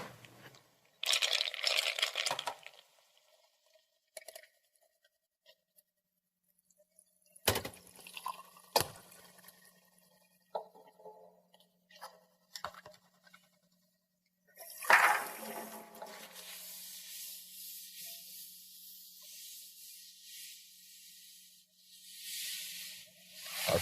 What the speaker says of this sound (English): take these 2 glasses over to the sink and fill them both almost full of water.